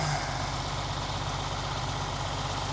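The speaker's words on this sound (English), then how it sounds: "They always get excited when the tractor comes out" A John Deere 4430 tractor engine idles with a steady, dense low rumble that stays constant and near throughout, with no talk over it.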